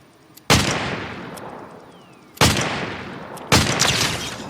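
Video game gunfire on a 2010-era GTX 460 graphics card with 1GB of VRAM, three loud sharp shots spaced about a second or two apart, each leaving a long ringing decay.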